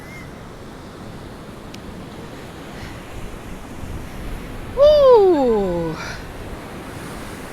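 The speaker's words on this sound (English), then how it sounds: "you can see the waves and you can feel the wind" Waves and gusty wind along Blackpool seafront at high tide, a steady broadband wash of surf and wind buffeting the microphone, with a brief excited shout from a person partway through.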